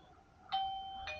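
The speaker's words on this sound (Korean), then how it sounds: "누가 이렇게 초인종을 다시 한번" Smart video doorbell chime at a home entrance, rung twice: two bright, clean electronic tones sound in quick succession, each ringing on and sustaining steadily over quiet room background, with no talking.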